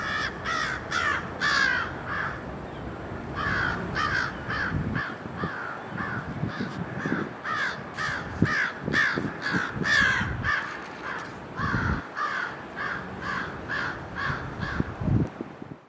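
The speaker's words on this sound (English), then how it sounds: "squawking and squawking and squawking to try to ward off the snowy owl" A seagull squawking repeatedly at a snowy owl outdoors: loud, close, harsh calls in a steady rapid series, with brief pauses, over wind noise.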